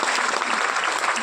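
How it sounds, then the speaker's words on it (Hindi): Seminar audience applauding together, dense sustained clapping from many hands throughout, moderately loud and steady. "ताली बजा लीजिए"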